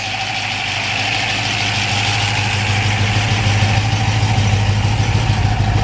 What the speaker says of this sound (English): Exhaust sounds real nice, all factory. Nice little note to it.